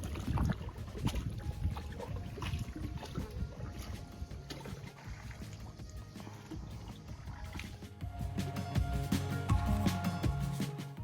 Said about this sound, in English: We then went to Begnas Lake for a little boat ride.